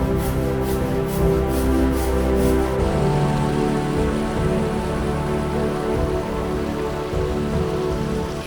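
Steady rain pouring down on a wet hiking trail in New Zealand, a dense, constant hiss and patter with no breaks, close and loud throughout.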